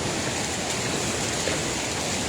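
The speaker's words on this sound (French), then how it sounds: "Bienvenue aux magnifiques cascades des Flumen." Snowmelt swells the Flumen waterfalls at St Claude into a loud, dense, unbroken roar of rushing water that fills the whole moment, with no speech.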